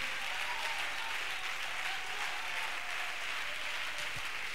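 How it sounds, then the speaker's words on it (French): A church congregation at a Sunday service gives a clap offering, a sustained, dense wash of many hands clapping together at an even level throughout. "Give a clap offering this morning."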